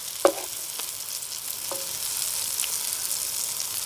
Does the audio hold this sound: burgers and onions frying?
yes